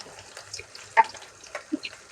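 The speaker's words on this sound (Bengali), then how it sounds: "এখানে আমি ভালো করে নেড়ে চেড়ে লাল লাল করে ভেজে দেবো" Chopped onion with cardamom, cinnamon, garlic and a little cumin frying in a small amount of oil, a soft steady sizzle with a few louder crackles and spatters, close and alone with no talking.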